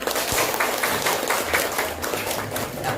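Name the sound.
classroom students applauding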